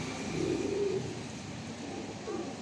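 Teddy pigeons of the Salara breed, from a Mianaji bloodline, give low cooing calls, faint and muffled beneath a steady background hiss.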